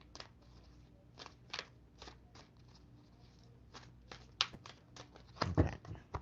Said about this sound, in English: I give them a little bit more of a shuffle.